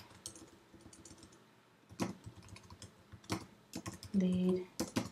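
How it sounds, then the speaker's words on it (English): Computer keyboard keys tapped in short bursts while a blog title is entered, soft close clicks with brief pauses between runs of typing. "Type in a title that you would like."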